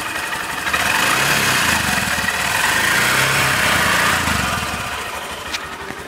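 Honda SP 125 motorcycle engine blipped a little by hand, a close, light buzzing note that rises slightly, holds for a few seconds and then settles back toward idle.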